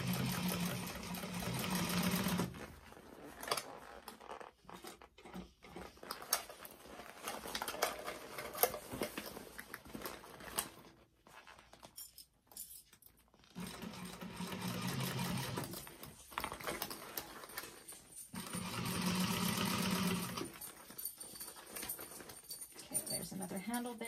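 A sewing machine stitches along a tote bag handle, running in loud bursts near the start and again later, with quieter pauses between where a person talks.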